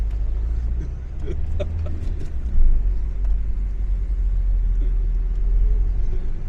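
A car drives past on a road with a heavy, low engine rumble that swells close by, while faint voices sound briefly in the background.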